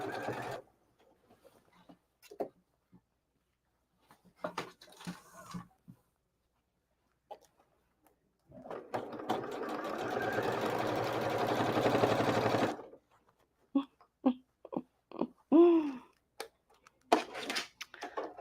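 A sewing machine stitches along a seam while a top is revamped, a steady whirring run of about four seconds between pauses, with brief clicks and handling noises around it.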